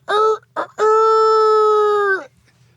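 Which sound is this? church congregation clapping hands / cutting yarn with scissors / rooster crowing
rooster crowing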